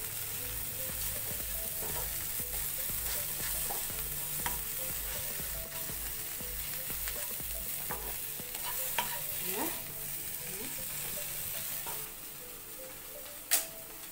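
Dry fish frying in a pan, a steady soft sizzle and crackle with a rhythmic ticking pulse for the first half and occasional faint clicks and scrapes, quiet and without talk.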